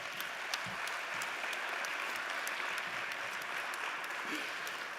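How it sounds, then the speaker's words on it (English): Steady applause fills an awards ceremony hall at a South Australian training awards event, a continuous even patter of many hands without any voices standing out. "give them a round of applause"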